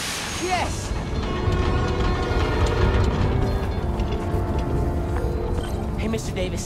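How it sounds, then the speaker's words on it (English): A New York subway train in the Spider-Man: Miles Morales video game rumbles steadily and loudly, with rail clatter and mechanical clicks running throughout. "my trusty New York subway."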